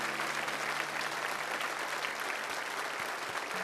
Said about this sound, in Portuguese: É o Rei Jesus. que merece uma linda salva de palmas